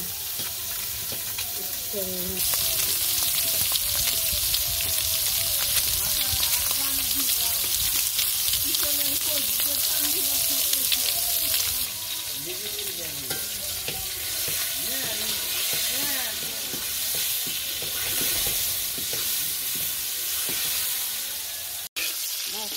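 Loud, continuous sizzling of food frying in a hot pan, with a steady crackling hiss and voices murmuring faintly underneath.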